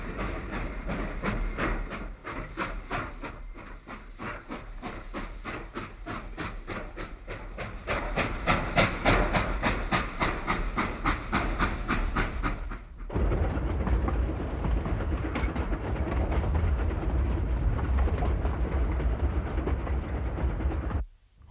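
A train passes a railway crossing in Rättvik, Sweden: a long, steady loud rumble with rhythmic clatter of wheels over rail joints, shifting to a heavier roar midway before cutting off abruptly, with no talking.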